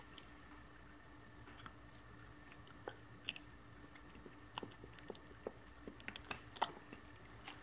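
Quiet chewing of a Sherbet Fountain licorice stick, soft sticky clicks and squishes scattered irregularly and growing busier toward the end, close to the mouth, with no talk.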